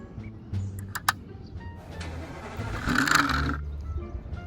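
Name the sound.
truck engine starting and driving off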